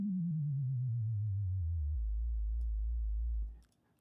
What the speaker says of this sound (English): Kind of low rumble down there.